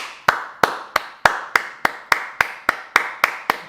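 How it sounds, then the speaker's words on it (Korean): One pair of hands claps steadily, about three crisp, close claps per second, with nothing else in the background. "박수."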